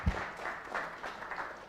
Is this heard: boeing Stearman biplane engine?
no